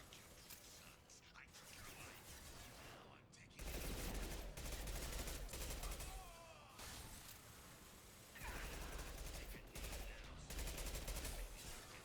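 Bursts of game gunfire from Mass Effect 2 with heavy low rumble, loud sustained volleys from about four seconds on, broken by brief lulls, with a soft voice murmuring beneath the shooting.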